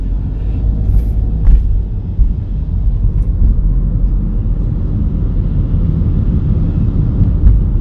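A car pulls away on a road driving-test course in Busan, a low engine rumble heard from inside the cabin, steady and moderately loud, with faint clicks and no talk.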